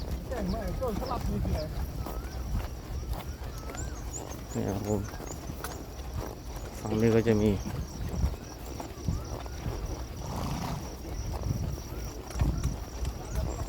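Horses' hooves clip-clop at a Thai polo stable beside turnout paddocks, a few scattered hoof steps under steady outdoor background noise while someone talks through most of it.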